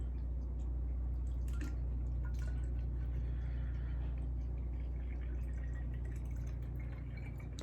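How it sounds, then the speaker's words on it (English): Cleaning liquid that smells strongly of pool water is poured into a small spray bottle, giving a continuous gurgling trickle with scattered drips over a low, steady hum. "you pour it into its little companion bottle"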